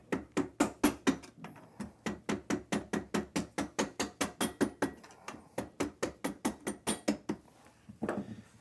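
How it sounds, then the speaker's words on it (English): A hammer drives a rear axle shaft out through the rear end, ringing metal-on-metal blows in a steady rapid series of about thirty strikes, loud and close, with a brief pause near the end. "we're going to drive this shaft out the other side"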